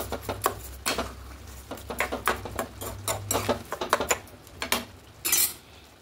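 A utensil scrapes and taps against a pan as tomato and sugar are stirred together, giving an irregular run of close, sharp clatters and scrapes with a brief louder scrape near the end.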